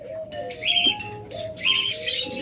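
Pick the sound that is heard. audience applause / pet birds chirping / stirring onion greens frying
pet birds chirping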